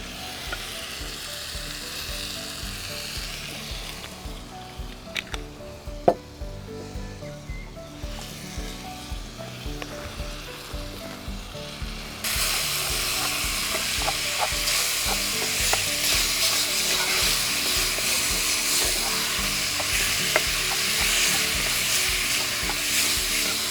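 Minced roebuck meat browning in a pan for chili con carne, a continuous close sizzle with stirring scrapes that grows sharply louder and brighter halfway through, one sharp clack early on.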